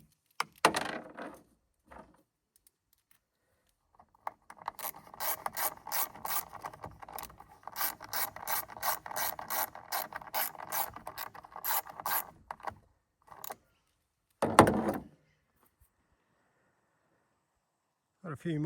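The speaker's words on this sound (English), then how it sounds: "now we tighten those two and the bottom clutch housing bolts" A ratchet clicks in short bursts as bolts on the clutch housing of a Stihl line trimmer are tightened, with quiet scraping and handling noises between bursts.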